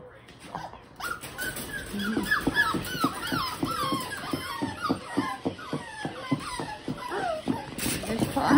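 A litter of young puppies at evening playtime whimpers and yips in rapid, high-pitched bursts, close by. A person talks softly over the continuous squeaky cries.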